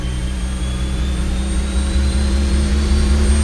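Centrifuges spinning up wildly give off a loud, steady jet-engine-like roar, a dense low rumble with a thin high whine gradually rising in pitch across the whole stretch.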